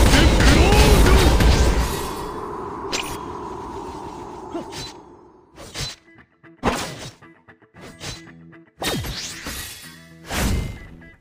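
A mage's explosion spell in the online battle game 300 Heroes: a loud roaring burst over the first two seconds, then a series of sharp thuds, whacks and crashes with brief quiet gaps, close and punchy amid game effects.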